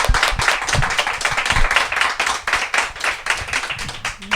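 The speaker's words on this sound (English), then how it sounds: "Let's give them a huge round of applause." An audience at a talk about a book gives a dense, sustained round of applause with many hands clapping together, loud and steady throughout.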